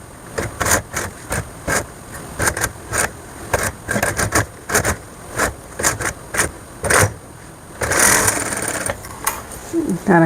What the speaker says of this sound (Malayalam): നമുക്ക് ഇവിടെ നിന്ന് സ്റ്റിച്ച് ചെയ്ത് കൊണ്ടുവരാം.